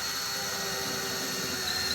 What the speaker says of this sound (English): So basically you just kind of want to get it started and then just start drilling, right?